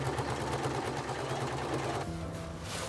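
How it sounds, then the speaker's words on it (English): A sewing machine top stitching the placket of a windbreaker reworked from old clothing, a fast, steady mechanical whir running continuously and close, then easing slightly near the end. "and finalize with the top stitching"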